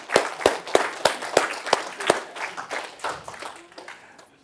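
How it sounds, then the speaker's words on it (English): Applause for a contest winner at a live rhyming talk on game development: about eight sharp, evenly spaced claps ring out clearly, then give way to looser, softer scattered clapping that fades toward the end. "round of applause for the winner"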